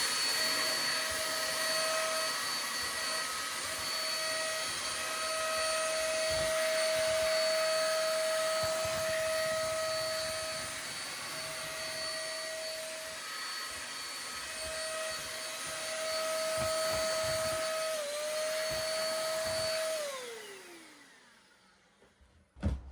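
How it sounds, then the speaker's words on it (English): A vacuum cleaner sucks up dry ballast from a model railway layout, a steady whining drone with an intermittent tonal note, running continuously before powering down and winding off near the end. "let's vacuum up the dry stuff where we can"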